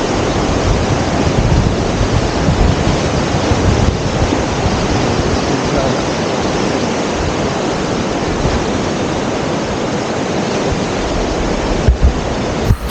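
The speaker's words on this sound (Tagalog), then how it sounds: "yung ragasa ng tubig" Floodwater from a typhoon rushes in a loud, continuous roar, a churning torrent close by, with no voices over it.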